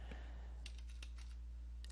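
Quick, light taps on a computer keyboard while entering a command, a short irregular run of faint, close clicks over a steady low hum.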